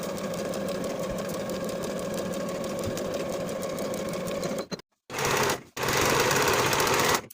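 Domestic sewing machine running steadily close by as it stitches inner curved seams on shorts with a half-inch allowance, a continuous motor whir that stops briefly twice near the end before resuming.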